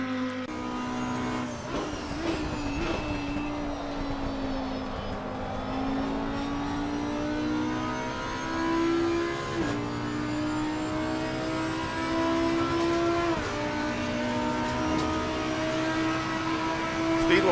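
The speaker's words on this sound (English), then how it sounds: "let's jump in the car and get in there and do a lap" Audi EVO GT3 race car at Monza in Assetto Corsa Competizione, its engine droning loud and steady with rising revs, brief dips at gear shifts, and a harsh whine climbing through each gear, heard from inside the car.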